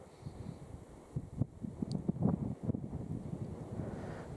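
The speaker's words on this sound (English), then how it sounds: "It's a little bit windy too." Wind on a hilltop at night, a steady low rumble buffeting the microphone with small gusts and thumps, moderately loud and with no talk.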